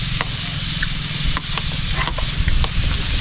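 Food, with carrots among the ingredients, sautés in a hot pan with a continuous close sizzle and hiss, punctuated by light scraping stir clicks at irregular intervals.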